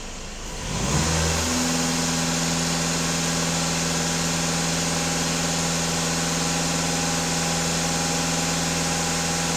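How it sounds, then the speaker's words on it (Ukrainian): A Skoda Octavia A7 4×4 engine goes from idle to full throttle, rising quickly in pitch to a loud, sustained high rev that holds steady, close by and alone. "Даю газ в пол."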